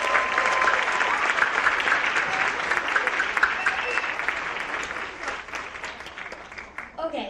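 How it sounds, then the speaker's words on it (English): Middle school graduates receive a full round of applause from the audience, dense and steady clapping that lasts several seconds and thins out toward the end. "Let's give them just one last round of applause."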